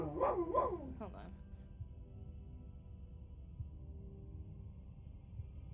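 Playing dogs bark and yip in a quick cluster at the start, fairly faint and off in the background, before the room falls quiet.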